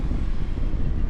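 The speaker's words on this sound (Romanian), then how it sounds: "ce bate vântul" Strong wind buffets the microphone while riding a bicycle, a steady low roaring rumble filling the whole moment without any voices.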